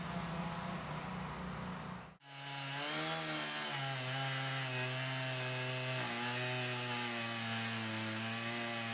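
A chainsaw cutting through a large tree trunk, loud and close, with a continuous buzzing engine drone that cuts out abruptly for a moment and then roars back as the chain bites into the wood.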